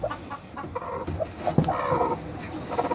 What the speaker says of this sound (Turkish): dışarıda sesi gelen horozumuz var bakın